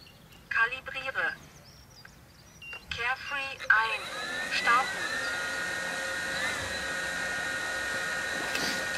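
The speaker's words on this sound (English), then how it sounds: "Now I'm going to start the motors." MikroKopter multicopter motors start up after a few short beeps and speech, then settle into a steady high whine with several layered tones that holds on loudly to the end.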